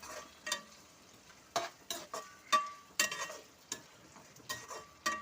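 Onion and tomato fry in a pan for brinjal curry, giving a steady soft sizzle broken by repeated sharp scrapes and clicks of a spoon stirring against the metal, close and with no talk.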